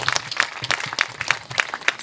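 An audience at a night gala in Ziguinchor applauds M. Diatta with brisk, fairly loud clapping that sounds like a small crowd and runs unbroken throughout.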